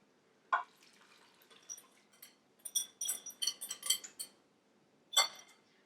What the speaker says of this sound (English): I'm going to just use my spatula and kind of wipe that down